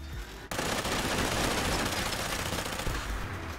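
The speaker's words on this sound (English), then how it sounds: "We'll start by shooting this first guy and see if it arcs over to that Mr." A Tesla arc heavy energy weapon in Fallout 4 firing continuously, a dense, sustained crackling buzz that starts abruptly and holds loud and steady for several seconds.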